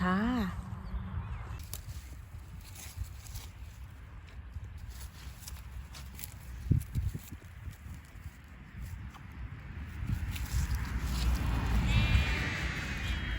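A sheep or goat bleats briefly at the start and again near the end, over rustling, shuffling steps and outdoor background noise.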